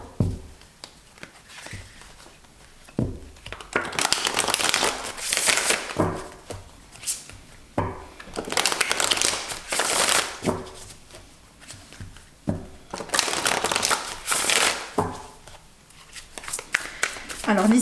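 Tarot oracle cards are shuffled in bursts of papery riffling and patting, close by, interleaved with a person talking.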